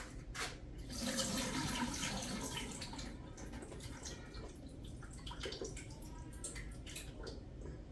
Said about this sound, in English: let me dump the water off of these